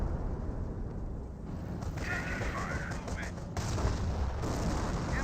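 25-pounder artillery fire in the Company of Heroes game, a dense rumble of booms and distant battle noise with a voice talking over it throughout.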